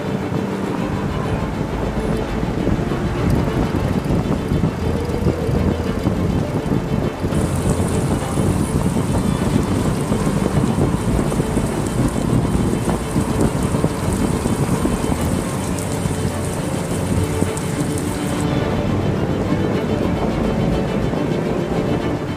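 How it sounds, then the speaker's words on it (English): Rain and a strong wind gust buffet a sailboat at sea in Greek winter waters, a dense, continuous roar of wind noise and rain hiss that stays loud and steady throughout, with no talking. "With the rain, a huge gust came, and I will be honest, it was scary."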